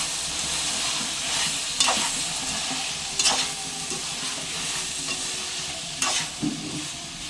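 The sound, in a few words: stirring and frying flat bean curry in a pan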